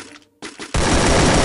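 Garena Free Fire gunfire: a couple of short loud bursts, a brief pause, then a sustained dense stream of automatic shots that fills the rest of the moment, with no talking.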